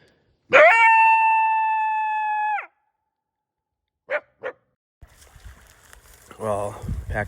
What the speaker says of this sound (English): Another dog in here.